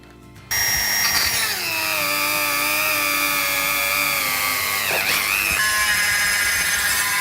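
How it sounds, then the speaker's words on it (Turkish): An electric drill whines loudly and steadily into a diecast metal toy car, its pitch dipping briefly as it bites, then recovering, close up and continuous. "Onunla delmeye devam edeceğiz"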